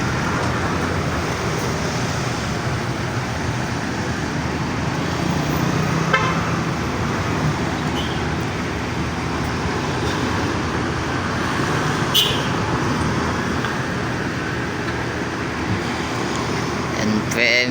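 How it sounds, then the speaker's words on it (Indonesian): An NPM V88 bus rolls into the Bukittinggi bus station under a thick layer of traffic noise, with idling engines and occasional honks in a busy terminal; a voice speaks over the din. "NPM V88 yang berusaha mendarat dengan mulus di polnya Bukit Tinggi."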